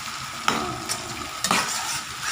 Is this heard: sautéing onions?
yes